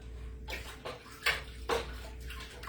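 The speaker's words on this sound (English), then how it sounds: "Stir, stir, stir with my non-stirring stick." A wooden stick swishes and sloshes through a container of mead being mixed, several uneven stirring strokes close by with no speech.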